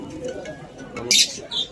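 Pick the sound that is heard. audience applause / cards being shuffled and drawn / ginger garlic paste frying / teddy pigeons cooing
teddy pigeons cooing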